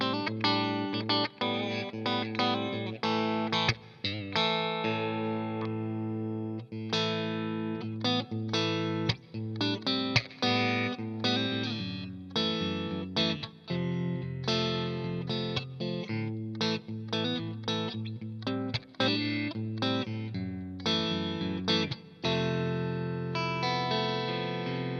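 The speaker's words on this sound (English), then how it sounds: "You kind of get that sort of quacky thing on the go." Fender Player II Stratocaster electric guitar in the in-between positions 2 and 4, a quacky, glassy clean tone with light chorus and reverb, played as a continuous run of picked chords and notes, close and alone.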